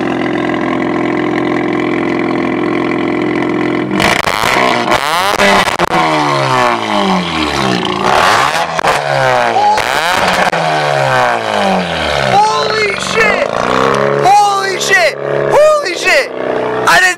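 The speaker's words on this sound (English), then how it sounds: "Let me give it a couple revs." A Mazda RX-8 rotary engine with catalytic converters removed idles, then revs hard repeatedly with loud rising and falling roars, popping and crackling between bursts, with voices talking over it.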